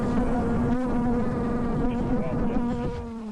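Killer bees swarm around wild honeycomb in a shed infestation, a dense, loud, continuous buzzing drone with wavering pitch from many insects close by, fading slightly toward the end.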